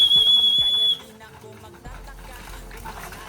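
A single steady high whistle used to call trained pigeons down, held for about a second, followed by quieter shuffling, light tapping and a voice talking.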